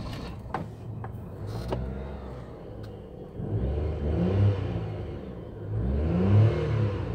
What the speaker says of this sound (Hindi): एक दफ़ा मैं फिर आपको ये स्टार्ट करके इसका साउंड चेक करा देता हूँ।